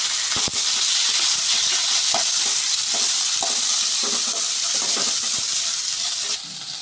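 Onion, ginger and curry leaves frying in hot oil, giving a loud, continuous crackling sizzle punctuated by repeated scraping stirs of a spoon against the pan, easing slightly at the very end.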